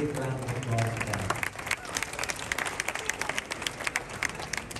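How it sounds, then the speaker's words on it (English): An audience at a yoga performance claps in a dense, continuous round of applause that carries on briefly at moderate distance, with a voice faintly audible underneath. "You all deserve a big round of applause for that."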